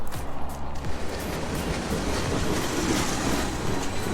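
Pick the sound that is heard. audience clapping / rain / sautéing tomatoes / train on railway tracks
train on railway tracks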